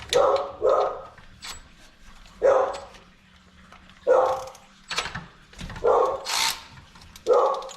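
A dog barks in repeated short bursts, about eight or nine loud, fairly close barks with brief pauses, in a garage or driveway during a GM 6.0 water pump replacement.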